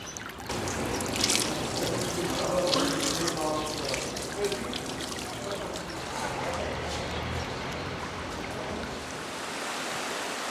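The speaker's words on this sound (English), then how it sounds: "Piping hot waterfalls that have flowed through the cliffs of Jermuk since time immemorial." Hot spring water from the cliffs of Jermuk, Armenia pours steadily through pipes in a continuous, fairly loud splashing rush that stays even from start to end.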